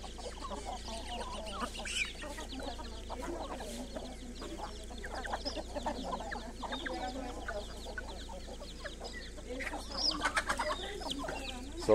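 Chicks fight on a farm, with many small birds peeping and clucking all at once. The chirping is busy and overlapping, moderately close, and stays fairly quiet over a low steady hum.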